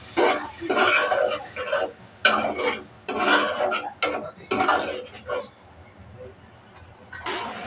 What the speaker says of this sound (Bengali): ভুঁড়িটাও ভালোভাবে কষিয়ে নেব।